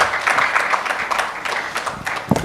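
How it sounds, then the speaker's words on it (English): Conference audience claps in a moderately loud, uneven burst of applause, with individual claps standing out through a short, steady patter. "Let's give them a big, big round of applause."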